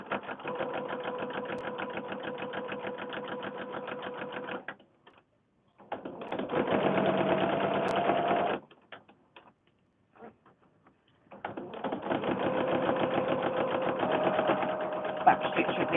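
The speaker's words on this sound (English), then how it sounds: "we're just going to stitch straight down that folded seam" Sewing machine stitching straight down a folded fabric seam for a cloth book, three steady runs of fast needle chatter separated by pauses, with a person talking in the background.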